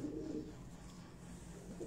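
Pigeons coo softly inside a coop, low murmuring calls rising at the start and end over a faint steady background, with no speech.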